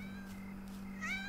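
A kitten in the Yomawari: Night Alone horror video game gives a short, soft meow that rises at the end, heard alone over a faint steady background hum.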